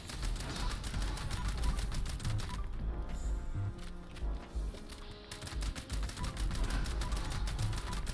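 Rapid automatic gunfire from the player's weapon in the video game Fallout 76, fast clattering bursts of sharp shots with a brief lull in the middle, moderately quiet overall.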